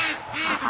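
Ducks in a pen give short nasal quacks in quick succession, close by and fairly loud, with no talking over them.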